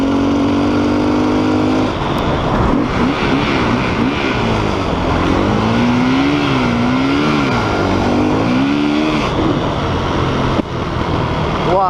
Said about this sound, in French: Le pot d'échappement, même d'origine, qu'est-ce qu'il envoie?